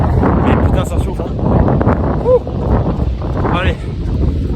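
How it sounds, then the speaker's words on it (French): Steady gusting wind buffets the microphone outdoors during a nighttime running workout, a loud continuous rumble with faint rustling and no clear speech over it. "il y a du vent"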